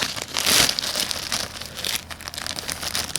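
A plastic Ziploc bag holding Disney Uno cards crinkles and rustles close up, with one louder crumple early on followed by lighter, intermittent crackling.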